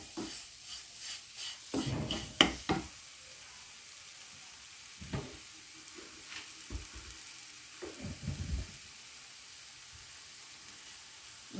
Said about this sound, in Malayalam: ഇളക്കി കൊടുക്കട്ടെ